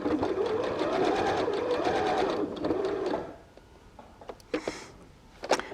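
A sewing machine runs in a steady, close burst for about three seconds as it stitches fabric for a cat-shaped purse, then stops, leaving a few small clicks and handling noises.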